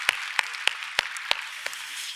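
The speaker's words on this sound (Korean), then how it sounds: "하나님께 박수로 감사합니다" Sparse, slow claps in a church during a sermon, six distinct sharp hand claps spaced about a third of a second apart, fairly faint and with no talking over them.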